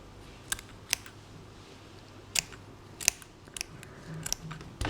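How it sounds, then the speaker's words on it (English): Several sharp, close snips of scissors cutting cloth at irregular intervals, with faint rustling between cuts in a quiet room. "Get your scissors."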